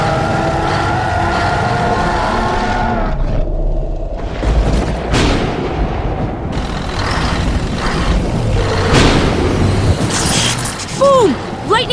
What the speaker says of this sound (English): Boom! Lightning strikes the monster's chain.